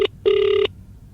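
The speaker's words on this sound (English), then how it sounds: "Okay, it's ringing. It's ringing." Two bursts of a synthetic telephone ring in Minecraft, a short chirp followed by a longer sustained electronic trill, loud and close with no talking.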